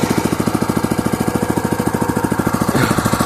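A Mesko RJS-1 garden tractor engine runs loud and close at reduced revs, its single cylinder thumping in a rapid, even beat of about twelve firings per second with no talk.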